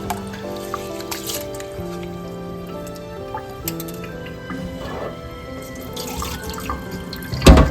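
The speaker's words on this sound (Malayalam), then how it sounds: "നമുക്ക് റൈസ് വാഷ് ചെയ്യാം കേട്ടോ" Water splashes and trickles as grains are swished and rinsed in a pot, with steady dripping and a sharp clatter at the end.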